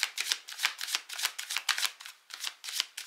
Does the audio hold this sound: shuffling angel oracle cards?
yes